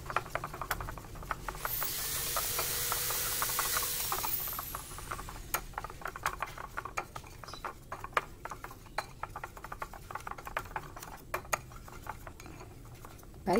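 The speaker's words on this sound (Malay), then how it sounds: "Nah, saya aduk seperti ini." Steady clinking and scraping of a utensil stirring batter in a bowl, with a brief hissing swirl early on, continuing in quick irregular strokes.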